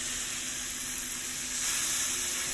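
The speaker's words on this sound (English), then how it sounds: "You want to stir fry these for about 2 to 3 minutes." Boiled noodles stir-frying in hot oil in a pan for chow mein give a steady, close, loud sizzle that holds throughout and swells slightly toward the end, with no talking.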